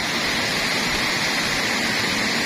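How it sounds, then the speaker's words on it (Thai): Tat Yai waterfall deep in the forest at Phu Pha Man, Khon Kaen, gives a steady, loud, unbroken rush of falling water with no voices. "เป็นน้ำตกลับกลางป่าแห่งนี้นะครับ"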